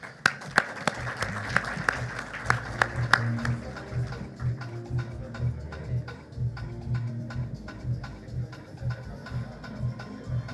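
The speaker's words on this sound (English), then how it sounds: "Let's clap for her as she gets into the stage." Applause rises for an award winner at a national skills competition ceremony in Kenya. Sharp, close claps ring out at first, then the clapping thins to scattered patters under a low background hum.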